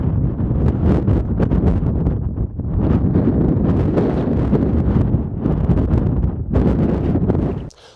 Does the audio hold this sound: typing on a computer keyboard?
no